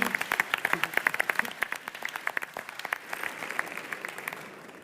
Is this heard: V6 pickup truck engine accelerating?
no